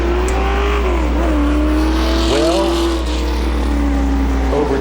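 Late model race cars at Waterford Speedbowl roar steadily around the oval, a loud sustained engine drone with a car revving and passing by midway, under a brief spoken word from an announcer.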